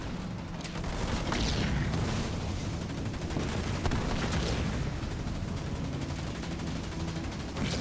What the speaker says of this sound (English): There's a turret drop.